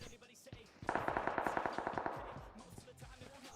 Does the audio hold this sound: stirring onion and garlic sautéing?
no